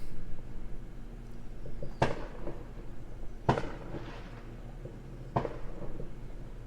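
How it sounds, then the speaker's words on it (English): Fireworks go off at a distance, three sharp separate bangs a second or two apart over a low steady background hum, with no voices. "Can you hear the fireworks going off?"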